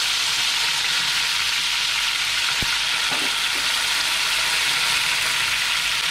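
Curry leaves sizzle and crackle in hot oil while a beetroot pickle is cooked, a steady loud frying hiss throughout with a few sharp pops near the middle, close up and with no talking.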